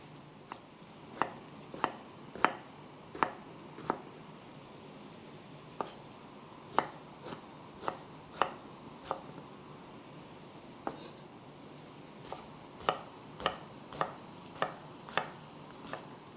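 A knife chops peeled eggplant into cubes on a board, sharp irregular taps in clusters over a quiet kitchen background with faint frying sounds.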